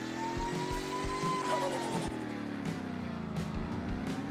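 A small Trabant car engine drones steadily at close range, its pitch rising and falling slightly, with faint clicks and knocks over the hum.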